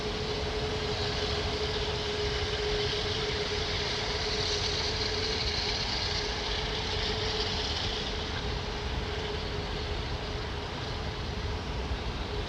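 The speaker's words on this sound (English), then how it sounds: "Hear the vents on those engines, man." Jet engines on aircraft at London Heathrow Airport roar steadily and loudly, a broad sustained hiss with a constant underlying tone and no pauses.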